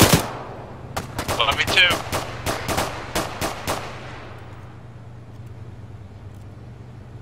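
Rapid bursts of gunfire in the military video game Arma, a string of sharp shots in quick succession fading into a low, steady hum, with a brief spoken line over the start.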